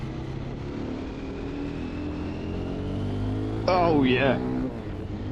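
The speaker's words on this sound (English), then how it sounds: "listen to that engine purr as we pull on to the dual carriageway here" A 2025 Triumph Scrambler 400 XC motorcycle engine drones steadily and builds as it accelerates onto a dual carriageway, with a brief spoken remark over it near the end.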